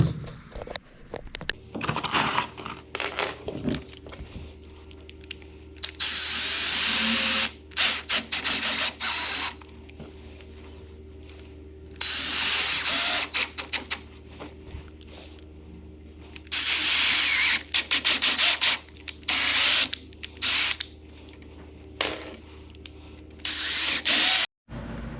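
A power drill drives screws into the corners of a wooden deck gate, with repeated loud whirring bursts of several seconds each, separated by short pauses and quieter handling sounds, and no talking.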